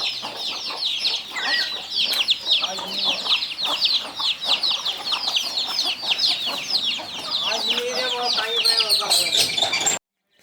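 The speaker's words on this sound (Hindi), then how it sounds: "ये देख लो भाई मुर्गे" Many chickens cluck and chatter nearby at a dog farm in a busy, continuous stream, with no pauses until it cuts off abruptly at the end.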